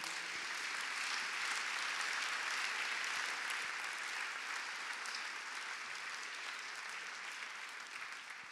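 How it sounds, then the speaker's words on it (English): Applause at a memorial service as people come forward to share memories, a sustained, even patter of many hands clapping, moderately distant, continuing steadily throughout with only slight easing near the end. "So why don't we give them a round of applause as they come."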